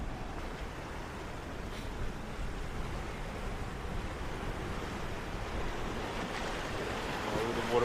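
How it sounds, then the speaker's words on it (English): Ocean waves surge in and out along the Margaret River coast, a steady broadband wash of surf with wind noise on the microphone, continuous and moderately loud. "Oh, the water rush in and out."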